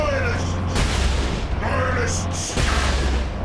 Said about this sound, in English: Okay, now I can use my las cannon on him.